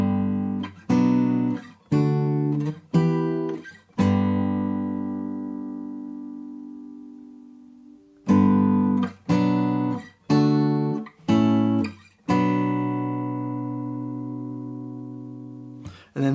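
Acoustic guitar in standard tuning with no capo plays the A section of a Far Cry 5 song: strummed chords ringing out, a repeated pattern with long sustained chords between, close and clear.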